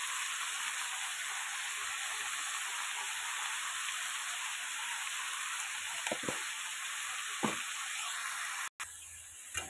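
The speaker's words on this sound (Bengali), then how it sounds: "এই যে লাউটাকে একটুখানি ভাজা ভাজা করে নিই ভালো করে।" Bottle gourd fries in a pan with salt and turmeric, a soft, even hiss of moisture sizzling that continues steadily, with a few faint clinks and a brief dropout near the end.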